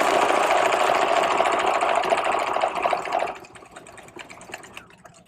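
Sewing machine stitching a buttonhole bar tack, a fast steady mechanical whirr up close for about three seconds before it slows and drops to a quieter hum and a few soft clicks.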